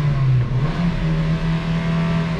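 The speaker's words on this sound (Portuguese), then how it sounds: "você coloca um neutro e acelera, ele não vai dar o corte de giro" Hyundai HB20 R-Spec 1.6 engine held at steady high revs in neutral, a loud continuous droning roar with a slight dip and recovery early on, close to the car.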